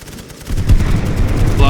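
Low, thudding machine gun fire rumbles across a World War I trench battlefield in a strategy game, a short dense burst of muffled shots.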